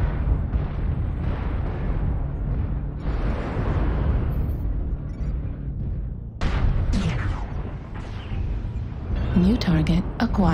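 Missile explosions boom and rumble in the MechWarrior Online mech combat game, dense heavy blasts with a cockpit warning voice and players talking over them.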